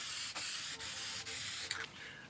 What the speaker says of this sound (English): I picked up this can of frosted glass spray paint and a sheet of plexiglass and sprayed that